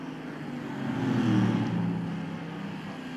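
Stock cars race in the NASCAR Racing 2003 video game, with a steady engine roar that swells as a car passes near and then fades, without any talking.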